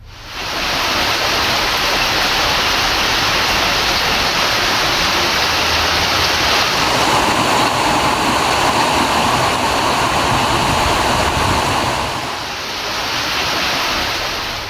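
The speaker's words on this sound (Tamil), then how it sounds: "கொட்டி தீர்த்த கனமழையால் சிமிட்டஹள்ளி சாலையை மூழ்கடித்தபடி வெள்ளம் பாய்ந்தோடுகிறது" Heavy rain floodwater rushes over a submerged road at Simittahalli in Erode district, making a loud, continuous roar like a waterfall that holds steady throughout with no voices.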